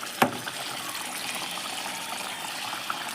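Water poured into a pot of pork curry, opening with a short knock and then a soft, continuous pouring and trickling that runs steadily to the end.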